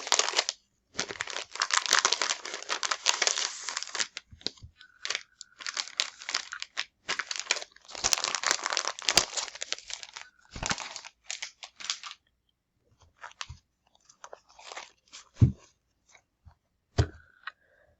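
Sheets of 6x6 paper being crinkled and handled past a sticky strip, with close, dense bursts of crackling in the first twelve seconds, then sparser taps and rustles, no talking.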